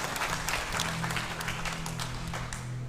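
A church congregation at a Saturday evening service applauding, a continuous wash of many hands clapping at moderate, even loudness with a low hum beneath it.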